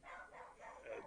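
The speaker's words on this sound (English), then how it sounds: "because you can hear the dogs barking." Dogs wanting to be let in to be fed give faint, muffled barks in a quick run of about three, heard at a distance against a soft background.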